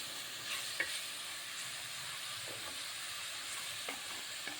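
A wooden spoon stirs fish curry in a clay pot, giving faint, scattered scrapes and knocks over a quiet, steady simmering sizzle.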